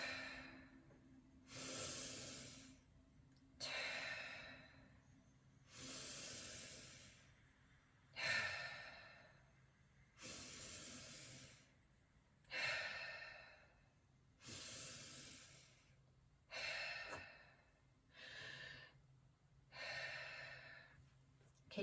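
Deep rhythmic breathing in Wim Hof method rounds, about ten long forceful breaths in and out, close to the microphone, each breath a swelling airy rush followed by a short gap, with no speech.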